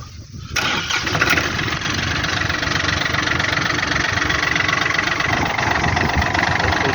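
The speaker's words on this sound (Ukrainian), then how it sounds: "Спробуємо його завести. Сьогодні у нас на дворі мінус 5, але тракторець заводиться гарно." A Yanmar F215 tractor's 21 hp engine turns over and catches on a minus 5 °C winter day, then settles into a loud, steady, close idle that runs without a break.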